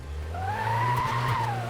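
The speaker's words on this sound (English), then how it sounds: "Oh, listen to that turbo." A video game car engine drones low while a turbo whine rises and falls in a smooth arc, close and fairly loud.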